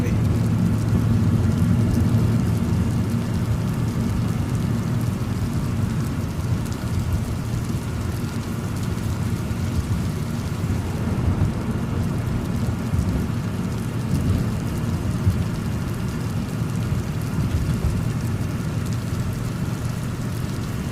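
Steady, heavy rain hisses without a break in Darjeeling during landslides, with a low rumbling underneath like a vehicle moving through the downpour on a sharp road turn.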